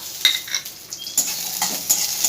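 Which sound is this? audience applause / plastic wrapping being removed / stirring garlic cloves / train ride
stirring garlic cloves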